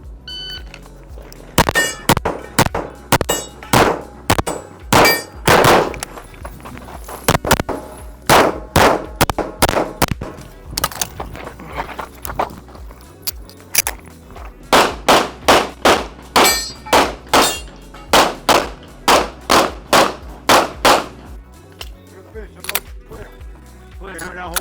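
Pistol shots in an IPSC stage fired at steel targets, sharp loud cracks in rapid strings with bright metallic clangs, broken by short pauses between bursts, voices faintly present.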